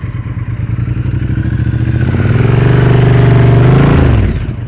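A motorcycle engine idles and chugs close by during slow-speed turn practice, its steady low rumble rising slightly in pitch before easing off near the end; no talking.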